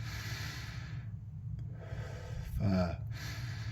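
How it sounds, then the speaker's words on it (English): Slow, deep human breathing during a counted relaxation exercise, with steady airy inhales and exhales and a louder, rougher breath near the end, close and alone without talk. "It's deep breathing too."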